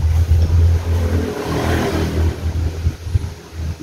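A chainsaw under repair revs loudly, its engine holding a rough, steady drone that surges and dips, close by and with no talking.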